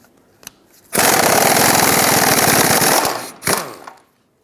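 Loud power tool with a 15mm socket unbolting a rear trailing arm bolt on a 2012-2020 Ford Focus: a sustained rattling hammer burst of about two seconds, then a shorter second burst before it stops.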